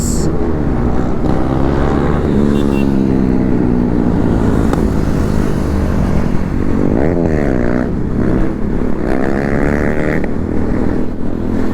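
A motorcycle popping a wheelie on a rainy hill road in traffic, its engine revving up and down in rising sweeps over steady road and wind noise, loud and close.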